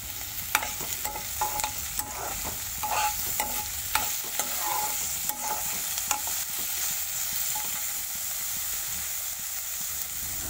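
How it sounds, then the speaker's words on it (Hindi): One chopped tomato cooking in a pan for a red lentil carrot soup, a steady sizzle with repeated scraping stirs and utensil taps, busier at first and calmer later. "उसे भी डाल के अब इसे भी मैं 1-2 मिनट इसे भी पका लेती हूँ"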